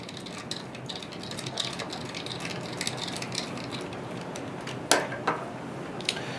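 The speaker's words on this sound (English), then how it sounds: "We're going to put the 2 screws in that are inside" Small screws being driven into a Lenovo x220t laptop, a quiet, quick ratcheting clicking of a screwdriver close by, with a few sharper metallic ticks near the end.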